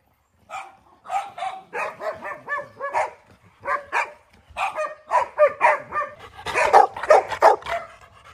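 German Shepherd dogs at a dog farm in Assam bark repeatedly in close, loud bursts, with short yips mixed into an uneven rhythm.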